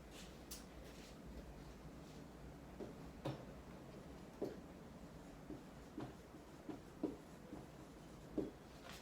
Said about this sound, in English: I'll write some sentences on the board.